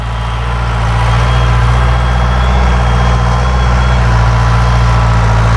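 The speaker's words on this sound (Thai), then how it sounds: "ต้องใส่รถไถดึงออกมานะครับผม" A farm tractor engine running steadily while pulling logs in a rural woodcutting setting, a loud, close, continuous low diesel drone with a constant throb and no talk.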